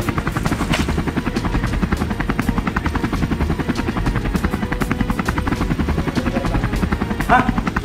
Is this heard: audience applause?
no